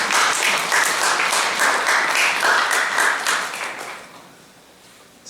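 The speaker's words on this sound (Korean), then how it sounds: "격려의 박수 해드리겠습니다." A church congregation at a Sunday daytime service gives a steady round of encouraging applause. The dense clapping fills the room for about four seconds, then fades out into quiet.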